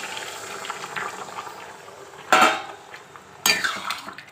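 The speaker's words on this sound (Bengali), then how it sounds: "এবার দেখো গরম জলটা এর সঙ্গে দিয়ে দিলাম।" Hot water poured into a pot of frying spices for a potato curry: a steady hiss of cooking under two sharp bursts of splashing and sizzling, close by.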